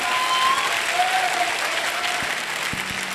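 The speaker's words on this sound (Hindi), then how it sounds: "थोड़ा सा तालियां बजाना है तो दोस्त अच्छे से बजाओ" A large audience at a motivational business event claps steadily for about three seconds, a full even wash of handclaps that fades slightly toward the end.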